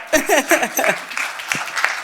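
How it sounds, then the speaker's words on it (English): Applause from an audience at a Q&A with a filmmaker, a crowd of hands clapping in a broad steady patter that follows and runs under a speaking voice. "once again, hand clap"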